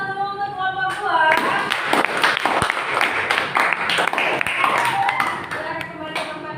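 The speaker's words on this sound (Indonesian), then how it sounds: "Kita kasih aplaus dulu untuk kelompok 2." A classroom group claps for group 2, a burst of many hands clapping close by that builds quickly and carries on steadily before tapering.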